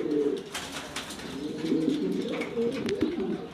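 Several loft pigeons, a mated male and female among them, coo continuously at close range in Mirpur, Dhaka. The throaty murmuring overlaps without pause, and a few light knocks and rustles sit over it.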